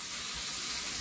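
Onions for homemade burgers frying in a pan, an even, continuous sizzle heard up close and fairly loud for about a second, with no voices.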